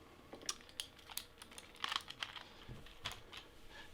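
Buttons on a Sega Saturn controller with clicky switches are pressed one after another. The light, irregular clicks and taps are close but quiet, over a faint background hiss.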